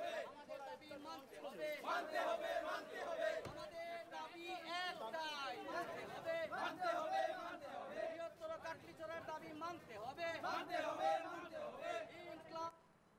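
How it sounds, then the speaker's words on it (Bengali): Large protest march crowd at Katlicherra station demanding a train stoppage, a dense roar of many voices shouting and chanting together, loud and continuous throughout before dropping away at the very end. "কাটলিছড়া স্টেশন থেকে এক বিশাল মিছিল বের করা হয়"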